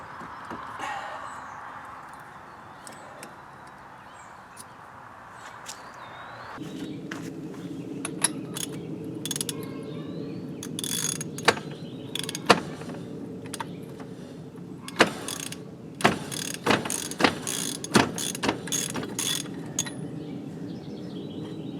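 A mechanic works on a 2008-2010 Polaris RZR 800 wheel hub, pulling the cotter pin and removing the hub. A steady hum fades out, then come close metallic clicks, scrapes and sharp clinks of tools against metal parts.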